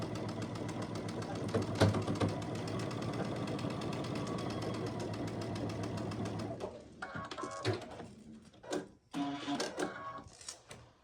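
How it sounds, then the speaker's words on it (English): A sewing machine runs a quarter-inch seam on a quilt block, a continuous rapid mechanical whir for several seconds, then short bursts and stops with brief pauses, close and clear. "I'm going to sew again at 1/4 inch"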